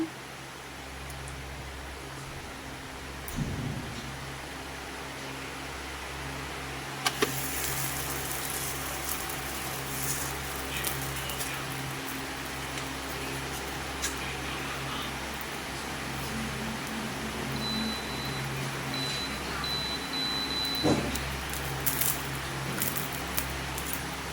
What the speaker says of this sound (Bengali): তেলটা গরম হয়ে আসলে দিয়ে দিব লাচ্ছা পরোটাটা